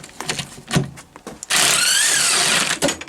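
A Kraftdele impact wrench loosens a stuck bolt on an old spare part: a sustained, loud, buzzing hammer burst of about a second and a half rising in pitch, following scattered clanks and handling noises.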